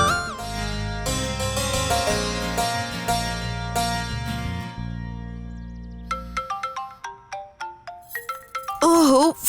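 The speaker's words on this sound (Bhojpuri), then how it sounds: "ओहो, फोन।" A mobile phone plays a melodic ringtone, loud and close, with a bass-heavy musical tune that gives way to a sparser chiming sequence of plucked notes near the end.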